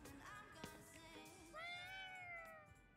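A cat meows in Ghostwire Tokyo, with one drawn-out, rising and falling cry at moderate volume that follows softer earlier mewing, standing clear over faint game ambience and no talk.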